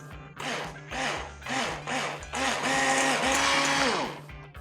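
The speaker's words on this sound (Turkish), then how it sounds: "2 adet yumurtamın üzerine 1 çay bardağı şekerimi ilave ediyorum. Şimdi çırpıcımla çırpıyorum." An electric hand mixer whisks two eggs with a glass of sugar in a bowl, a steady close motor whine with rhythmic rising and falling pulses as the beaters move, growing fuller toward the end.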